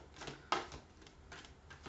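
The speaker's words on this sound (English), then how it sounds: "Keep shuffling this" Tarot cards are shuffled by hand in quick, soft riffling bursts, close and quiet, with one sharper snap early on.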